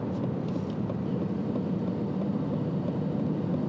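A 2020 Aston Martin Vantage engine producing a deep, continuous rumble, steady and fairly loud from inside the car while driving, with no voices.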